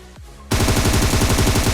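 Rapid automatic gunfire in a first-person shooter game: after a brief quiet moment, a loud, dense burst of shots rattles on continuously.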